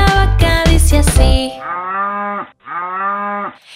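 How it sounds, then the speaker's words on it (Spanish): A cow moos loudly twice in long drawn-out calls, following a burst of bright children's song music in a Noah's ark nursery tune. "Quieren oír, la vaca dice así."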